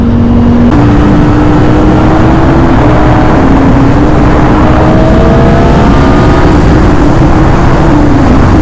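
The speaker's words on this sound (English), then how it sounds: "the symphony of this bike" A Ducati motorcycle engine on the move, loud and close with a steady droning hum whose pitch climbs in stages as the bike accelerates, wind rush underneath.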